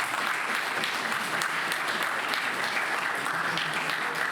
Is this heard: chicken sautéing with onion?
no